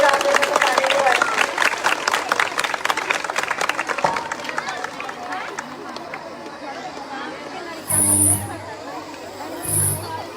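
Village audience at a Teeyan Teej festival clapping along in a steady rhythm, dense and lively under crowd murmur, thinning out midway, with a couple of brief louder bursts near the end.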